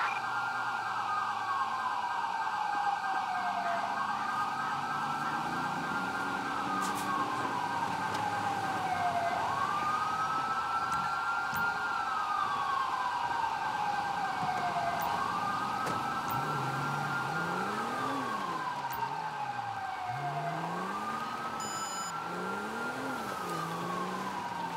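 An emergency vehicle siren in the video game GTA5 wails in long rising and falling sweeps. It repeats steadily and evenly for the whole stretch at a moderate, constant level, with no voices over it.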